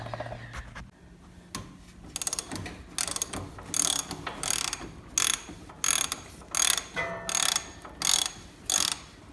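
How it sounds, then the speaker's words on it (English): A ratchet wrench loosens a nut on an Exmark Lazer Z E Series mower's hydraulic filter, a run of quick clicking bursts repeating in a steady back-and-forth rhythm, close and crisp. "You want to stick your wrench on that nut right there and loosen that"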